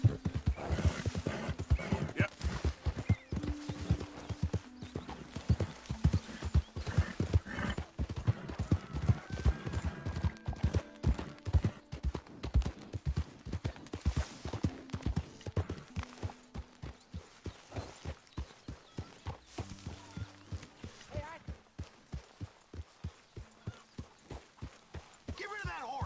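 Horse hooves clip-clop in a steady rhythmic gait throughout, with occasional whinnies, game music and voices in the background, from the video game Red Dead Redemption 2.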